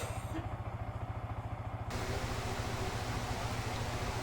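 A stock Yamaha R15 V3 motorcycle with stock ECU, pipe and air filter idles while its engine is still cold, a steady close rhythmic low putter under a constant hiss.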